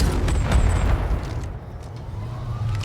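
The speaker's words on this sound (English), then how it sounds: "that's an explosion and look at this wreck, it's now flying up." A video game explosion in a space sim, a loud low boom at the start that fades into a lingering rumbling roar with scattered crackles.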